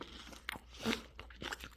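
Crunchy kataifi pastry inside a Dubai chewy cookie being bitten and chewed close up, giving a few short, crisp crackling crunches over about two seconds.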